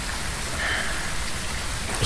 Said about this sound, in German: Ich kriege eine Gänsehaut bei dem ganzen Regen.